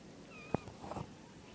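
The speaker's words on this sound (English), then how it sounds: "He's my new kitten." A single short meow from a new kitten, close and clear, followed by faint rustling and small household noises in an otherwise quiet room.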